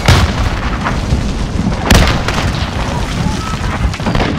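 A grenade goes off in the Modern Warfare video game, a heavy boom landing midway amid rumbling battle noise, with further distant blasts and combat clutter around it.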